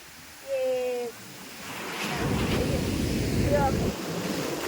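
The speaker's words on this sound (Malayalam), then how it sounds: "നല്ല തിരമാല, നല്ല തിരമാല, നല്ല കാറ്റ്" Waves wash onto Alappuzha beach in Kerala as steady wind buffets the microphone, with a couple of brief voices at the start and again later.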